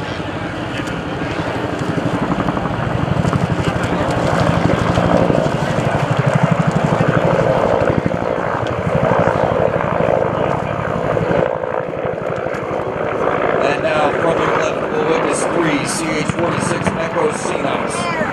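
Twin-engine Sea Knight tandem-rotor military helicopters at a 2012 open house and airshow, a steady loud rotor and engine roar with wind noise running throughout, with a public-address announcer's voice over it.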